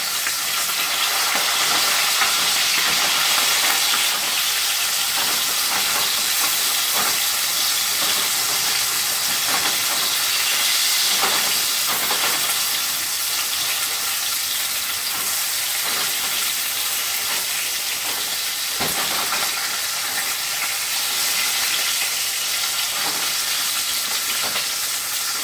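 Pork chops sear in a pan on an apartment stovetop, giving a steady, loud sizzling hiss with occasional faint stirring or scraping clicks throughout, and no voices.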